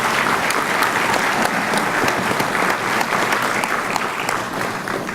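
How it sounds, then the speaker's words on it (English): Sustained applause from an evening audience at a Dutchess County, New York Firefighter 1 graduation ceremony, honoring special guests and dignitaries; dense, steady clapping that fills the hall throughout. "One more round of applause for our special guests and dignitaries that are here this evening"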